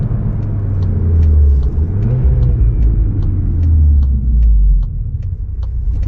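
Interior of a 2023 Volkswagen Golf R driving a test route, its engine a steady low rumble with rising and falling pitch as it accelerates, plus faint regular ticking throughout; no one talks.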